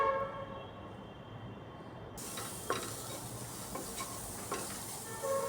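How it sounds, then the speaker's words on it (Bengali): Soya chunks sizzle and fry in a pan with a steady hiss, and a spatula scrapes and stirs them now and then with a few distinct clinks, close and moderately loud. "একটু হালকাভাবে সয়াবিনটাকে ভেজে নিচ্ছি।"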